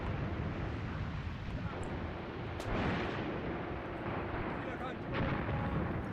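Mortar fire in Graviteam Tactics: Mius Front, distant muffled thuds and booms repeating over a steady rumbling, wind-like background.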